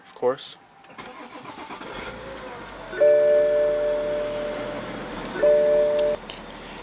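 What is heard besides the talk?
inline six-cylinder turbo diesel engine starting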